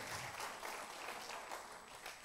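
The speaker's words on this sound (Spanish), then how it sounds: "Bueno, aplaude el Señor si quiere." Congregation applauding inside a church during a Sunday service, a steady wash of clapping that holds evenly at moderate distance throughout, with no voices over it.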